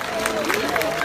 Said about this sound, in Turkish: Daha büyük bir alkış.